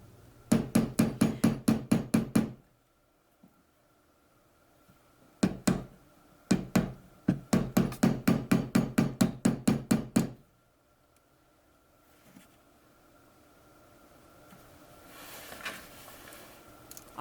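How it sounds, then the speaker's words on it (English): A rawhide mallet hammers a silver square ring, landing quick bursts of close, crisp knocks in rapid runs broken by short pauses, with faint handling noise between. "I use my rawhide mallet, hitting one side, then the other side"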